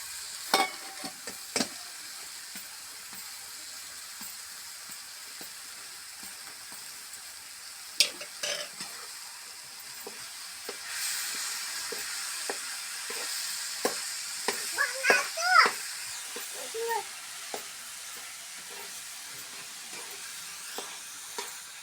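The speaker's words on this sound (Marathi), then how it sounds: "आता साखर टाकून त्याला परतून घेऊया" Shikran being sautéed with sugar in a pan, a soft steady sizzle broken by scattered scrapes and clinks of stirring, quiet and close with no talk.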